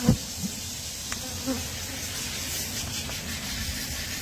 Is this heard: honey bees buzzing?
yes